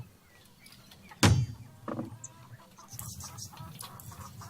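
A chicken clucks in a few short, close bursts, the first sharp and loud, with quieter clucks and rustling after it and no talk.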